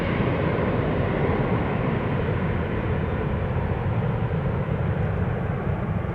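A Transavia airliner departing Amsterdam Schiphol Airport gives a loud, steady jet roar close by, a broad rumbling wash of engine noise that holds level throughout.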